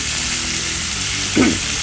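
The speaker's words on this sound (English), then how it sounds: "So they're sizzling away" Steady, bright sizzling of sausages frying in a hot pan, casings breaking, a continuous crackling hiss with a brief low bump near the end.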